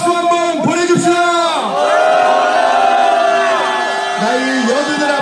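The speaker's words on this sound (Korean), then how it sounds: "우리 월남 참전용사 병 214기 이근석 해병님께 박수 한번 보내줍시다!" Crowd cheering and shouting together at an outdoor street march through a city centre in monsoon rain, a loud sustained roar of many voices with rising and falling calls, held for several seconds close by.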